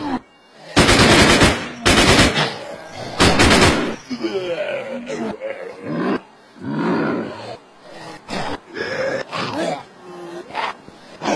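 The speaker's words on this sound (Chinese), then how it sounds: "老外听到我枪声了，又过来干我了" Video game gunfire rattles in loud automatic bursts near the start, then gives way to scattered shots and game noise mixed with voices.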